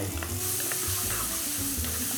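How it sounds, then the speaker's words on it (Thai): Spice paste pounded in a mortar hits a tablespoon of oil in a reused pan and sizzles steadily and close, with light stirring scrapes for a Thai lemongrass chicken stew; no one speaks. "กระทะใบเดิมนะครับ น้ำมันหนึ่งช้อนโต๊ะใส่เครื่องที่เราโขกตามลงไป"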